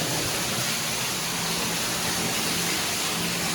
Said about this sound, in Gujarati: જોવો મિત્રો લાઈવ પાણી જોવો